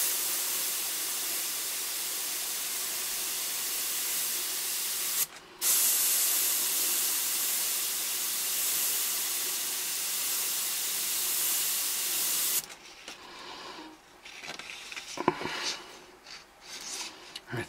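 A Badger airbrush sprays in a steady, close hiss that runs for about twelve seconds with one brief pause, then stops, leaving quieter handling noises and a few knocks.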